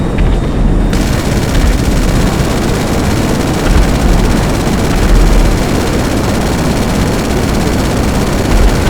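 Machine gun fire in GTA 5 Online, a loud dense rattle of rapid shots mixed with rumbling engine-like noise, sustained without a break.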